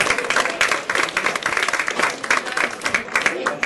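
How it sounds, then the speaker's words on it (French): A roadside crowd claps steadily for the winner of a cadet cycling race in Noyal-Châtillon, the dense applause sustained and fairly close, with no voices breaking through. "vous pouvez l'applaudir"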